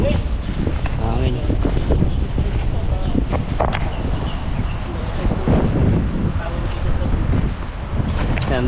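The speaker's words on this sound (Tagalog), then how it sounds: "Hangin." Gusty wind buffets the microphone in low rumbling bursts, with occasional voices underneath.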